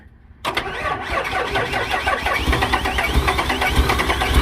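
After a brief quiet moment, a car engine cranks and starts up, then settles into a loud, steady running rumble.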